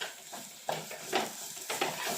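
Coconut masala for a sardine curry is stirred in a pan, with soft repeated scraping strokes and a faint sizzle underneath, fairly quiet and close.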